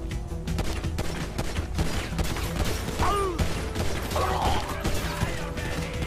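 Gunfire in Grand Theft Auto V rattles in dense bursts over a steady game soundscape with mechanical clatter, loud and continuous throughout, with no talk over it.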